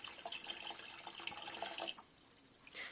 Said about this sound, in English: now we've moved on to our smallest increment, which is 2 cups, which is a pound of water